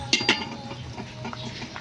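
Pork rib nilaga broth with Chinese pechay and potatoes boils in a pot, with two quick metallic clinks at the start and then a steady bubbling simmer, close and moderately loud.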